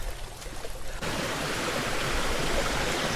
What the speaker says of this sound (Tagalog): So ayun, ilog na naman tong tinagos natin.